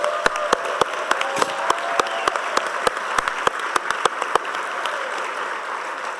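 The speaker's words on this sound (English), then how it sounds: "Let's give another big round of applause to all of our award recipients" Scattered hand claps ring out over a steady crowd murmur at a conference awards ceremony, loud individual claps standing out irregularly before the clapping thins toward the end.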